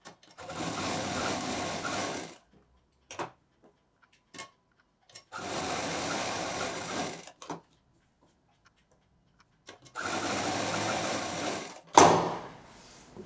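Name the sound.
sewing machine stitching T-shirt fabric quilt pieces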